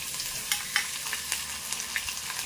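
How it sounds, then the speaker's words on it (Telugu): Green chilies and cumin frying in hot oil give a close, steady sizzle dotted with quick crackles and pops, with no talk over it. "ఆయిల్ ఎక్కిన తర్వాత జీలకర్ర వేసుకున్న తర్వాత అయితే పచ్చిమిర్చి కూడా వేసుకుందాం."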